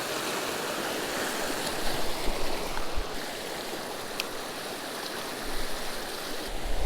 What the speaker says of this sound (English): We got a little waterfall action.